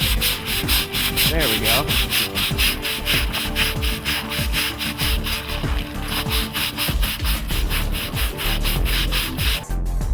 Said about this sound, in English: here is a neutral cleaner, and we want to just go ahead and scrub quite a bit of that release off.